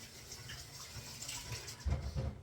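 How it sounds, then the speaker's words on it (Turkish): Tap water runs steadily in a kitchen while hands are washed beneath it, with a soft continuous splash and a few heavier, louder splatters near the end. "Hemen ellerimi de yıkayayım bir."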